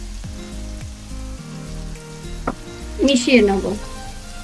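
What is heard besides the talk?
tomato paste sizzling as it fries in a pan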